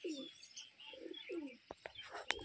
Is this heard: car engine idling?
no